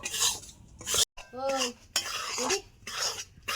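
Flour and gram flour with cardamom seeds are stirred and roasted over medium heat in a pan, making bursts of dry scraping and metallic spoon clatter, close up, with a brief voice in the middle.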